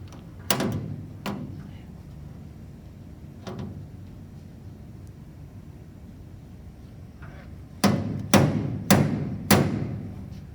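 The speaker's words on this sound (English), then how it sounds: "As he gets the slide hammer attached here, he's having some technical difficulties." Sharp metallic thuds from a slide hammer pulling a dent out of a car in a collision repair shop: two early knocks, one lone hit, then a quick run of four heavy strikes, close and loud with quiet gaps.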